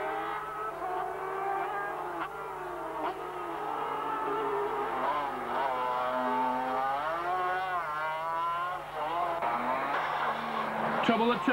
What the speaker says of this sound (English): Just listen to wheel spin on Billand's outfit as he hurtles past the pits.